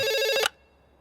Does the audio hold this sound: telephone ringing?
yes